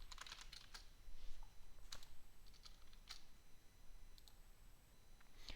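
Keys on a computer keyboard click in a quick, uneven burst, faint and close, with scattered single taps against a quiet background.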